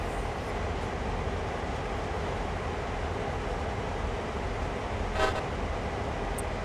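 Train horn in the Train Sim World game sounds once as a short toot near the end, over a steady loud rumble of the locomotive's engine and running noise throughout.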